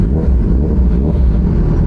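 Motorcycle engine running while riding, a steady loud low rumble that fills the whole stretch with no break, the engine droning up close as if heard from on the bike.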